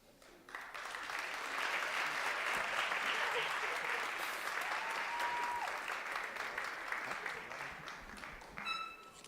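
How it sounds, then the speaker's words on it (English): An audience at a National Honor Society induction gives sustained applause for new inductees, a dense, steady roar of clapping that swells in and holds for several seconds before easing off. "Can we have one more round of applause for all of our new inductees?"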